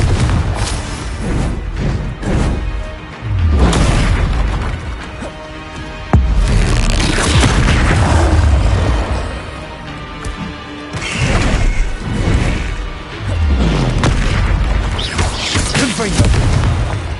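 Blasting spell explosions in Hogwarts Legacy boom loudly again and again, heavy overlapping bursts and crashes rolling into one another in a dense battle din, with a shouting voice buried underneath.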